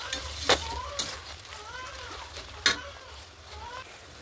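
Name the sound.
frying chicken meat in a pan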